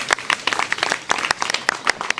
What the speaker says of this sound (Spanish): ¡Oh, fuerte el aplauso!